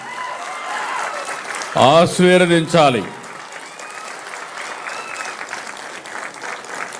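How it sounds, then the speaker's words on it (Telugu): An audience at a public event with the chief minister applauds loudly in a sustained wash of clapping, broken briefly by someone speaking over it. "గట్టిగా చప్పట్లు కొట్టి మీరందరూ వారిని అభినందించాలి"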